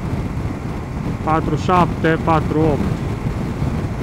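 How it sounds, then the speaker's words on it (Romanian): Strong wind roars and buffets the microphone while riding a CF Moto 800MT Explore motorcycle at highway speed. Someone speaks briefly over the steady, low rumbling gusts. "Dar vă zic, vântul bate foarte tare."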